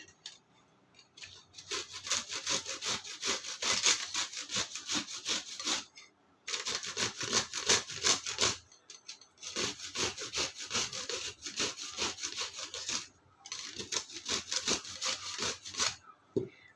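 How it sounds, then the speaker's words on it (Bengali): Fresh mangoes being chopped into small pieces with a cutting tool, giving rapid, steady scraping and cutting strokes in four long bursts separated by brief pauses, close and fairly loud with no talking. "আমগুলো এইভাবে কুচিয়ে নেবো সবগুলো দেখতে থাকুন"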